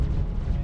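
A torpedo firing or exploding in the Star Citizen video game: one short, deep, rumbling boom, loud and close, heavy in the low end with no voices over it.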